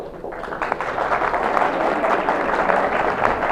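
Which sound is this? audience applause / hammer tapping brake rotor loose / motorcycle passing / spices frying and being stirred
audience applause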